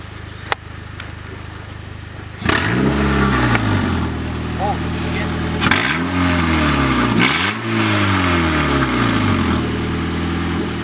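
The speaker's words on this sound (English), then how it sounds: "Let us hear some of that VTEC. Alright, I'm gonna redline it." A car engine with VTEC revs hard toward redline in repeated rising and falling sweeps after a quiet start, loud and close, with exhaust roar filling the clip.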